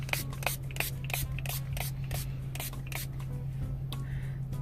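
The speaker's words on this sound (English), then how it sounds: "Just spray it." A small bottle of mouth sanitizer from the dollar store gives a run of short, sharp spray bursts, close and quick, over a steady low hum.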